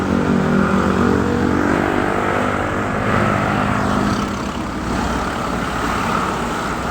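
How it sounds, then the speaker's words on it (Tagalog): Dense, heavy traffic rolls along Sumulong Highway, a steady loud wash of engines and tyres with vehicles passing close by throughout, no pauses. "Daming sasakyan."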